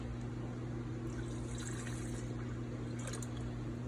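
Milk poured for lemon and basil gelato, a soft steady liquid flow over a constant low hum, close and fairly quiet, with no talking.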